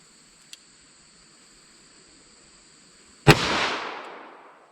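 A single .44 Special Gold Dot round fired from a revolver with a 4 1/4 inch barrel, a sharp loud crack followed by a decaying outdoor echo, with a faint click earlier in the quiet.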